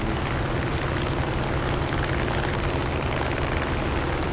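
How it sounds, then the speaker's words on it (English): A propeller fighter plane's engine in War Thunder drones steadily and loudly, a dense broadband roar filling the whole stretch without a break, no voices over it. "I heard an engine too when he was flying by."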